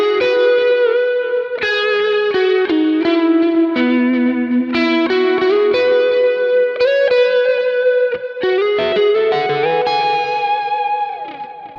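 A clean lead electric guitar through a Kemper profiler plays a flowing melodic line of distinct picked notes with shimmering chorus and reverb, loud and alone without any voices.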